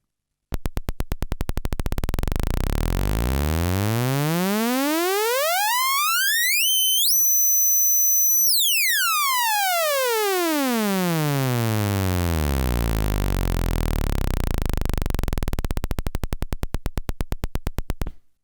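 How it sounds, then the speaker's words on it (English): A bright, buzzy sawtooth wave from an AE Modular synthesizer oscillator rises steadily from a low rumble to a piercing high pitch, holds briefly, then sweeps back down. "Sawtooth from bottom to top."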